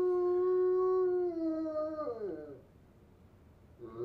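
Bloodhound lying curled in a chair lets out a long, loud, whiny howl that wavers and falls in pitch, trails off into quiet, then begins another cry at the very end.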